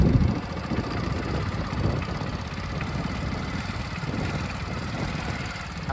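A new motorcycle engine runs steadily at idle, a continuous low rumble with a faint hiss throughout and no speech over it.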